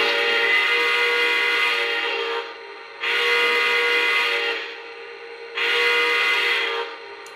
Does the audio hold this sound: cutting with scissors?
no